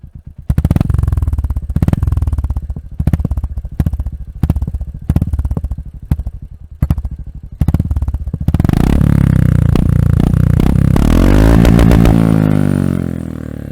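Royal Enfield Hunter 350 motorcycle with a modified exhaust, loud and close, blipping the throttle in sharp revs with crackling pops, then holding a sustained high rev that swells and fades.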